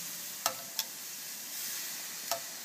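Beef ribs basted with Newcastle beer sizzle quietly on a grill, a soft steady hiss with a few sharp crackling pops rising above it.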